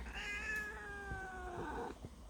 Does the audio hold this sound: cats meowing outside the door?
yes